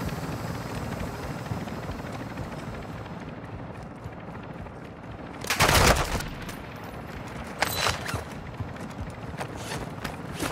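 Helicopter drone and gunfire in Call of Duty DMZ: a constant low rotor rumble runs throughout, broken by a loud burst of shots midway and a shorter volley later.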